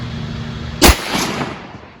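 A single sharp rifle shot firing .223 Hornady 75-grain BTHP handloads at a target outdoors, a loud close crack over a quiet hum, followed by a brief rolling echo that fades.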